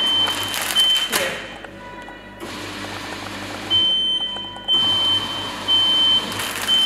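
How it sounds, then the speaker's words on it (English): A textile-industry needle detector scanning clothes for stray needles sounds off with steady high-pitched beeps in several separate bursts, loud and close, with quieter gaps and some handling noise between them. "So this is the needle detector, usually used in textile industry to detect the foreign contaminants in products."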